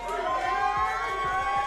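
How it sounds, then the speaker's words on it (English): Crowd cheering and shouting at a Street Fighter 6 fighting game tournament in Redding, California, a dense, sustained roar of many voices with steady rhythmic thumps beneath it. "Let's hear you guys in the crowd."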